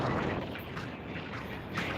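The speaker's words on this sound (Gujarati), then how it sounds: "ઠંડો પવન ફૂલ ચાલુ છે ઠંડો પવન આવી રહ્યો છે" Steady, loud cold wind rushes and buffets across the whole clip on the White Rann salt desert at Dhordo, Kutch, a broad roaring noise with gusty swells and no pauses.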